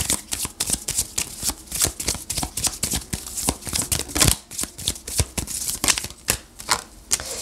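Tarot cards are shuffled for a love reading, giving rapid, crisp riffling snaps and flutters in quick repeated bursts, close and clear with no talk.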